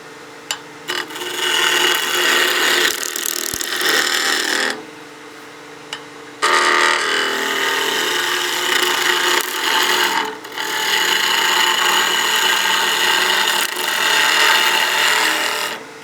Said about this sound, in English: now we can do some planing cuts to get this nice and smooth and straight across